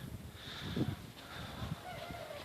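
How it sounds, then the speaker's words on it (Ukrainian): Faint, distant crowing from more than one rooster over soft outdoor background noise, with a few short calls overlapping. "Слухайте як півні співають"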